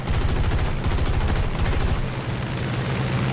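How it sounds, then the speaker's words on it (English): Rapid machine-gun fire from the guns of an F4U-1a Corsair in War Thunder arcade battle, a loud continuous rattling stream of shots aimed at a Hellcat, with no speech over it. "I make a turn over, little loop, and I start shooting at that Hellcat there."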